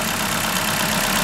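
A Ford Fiesta MK7 petrol engine idles after a cambelt replacement, a steady, even mid-pitched hum close by with no talking.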